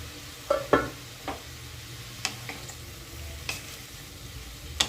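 Snake gourd cooking in a covered wok on a stove, with soft low frying noise and a few sharp clinks and taps from the lid or a spatula spaced through the stretch.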